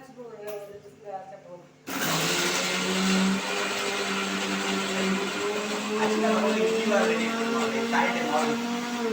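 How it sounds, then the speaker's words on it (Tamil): A mixer grinder grinding soaked lentils into batter for masala vada starts abruptly and runs loud and steady with a motor whine, after a short stretch of talk. "எவ்வளோ நேரம் அரைக்கணும்"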